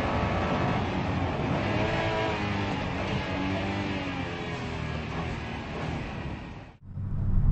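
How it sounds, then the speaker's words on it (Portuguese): A loud Honda NSX engine roars steadily at high revs with shifting pitch as it downshifts, then briefly cuts off and surges back near the end. "Ele saindo fritando de dentro dos boxes, lixando com o NSX, depois entrando nas curvas, pisão no freio"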